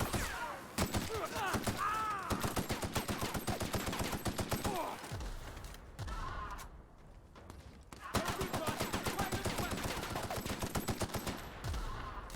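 Enemy gunfire in the game The Outer Worlds, sustained rapid machine-gun bursts with evenly spaced shots, pausing briefly midway before resuming, loud and close, with a person talking during the shooting.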